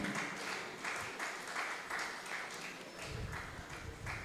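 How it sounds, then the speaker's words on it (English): A crowd at a real estate summit claps in a steady rhythm, with the hands striking together in even, repeated beats that continue throughout at moderate loudness. "Please, a round of applause for Miss Adiba."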